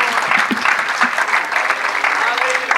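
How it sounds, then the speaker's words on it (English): A church congregation claps their hands in worship, a loud, dense, sustained burst of applause with voices mixed in beneath the clapping. "Clap our hands at the Lord."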